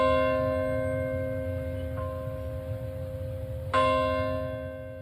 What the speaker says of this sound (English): The Bell of Hope rang in New York at 8:46 local time.